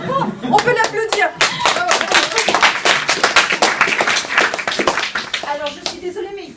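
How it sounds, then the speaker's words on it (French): Loud applause from a crowd, dense rapid clapping that goes on for several seconds, with a few voices and a voice mixed in. "On peut l'applaudir."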